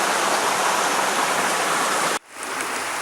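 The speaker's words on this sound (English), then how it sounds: "I don't know if you can hear the water in the background." River water rushing through The Narrows, a loud, steady broadband roar that cuts off suddenly near the end, then returns a little softer.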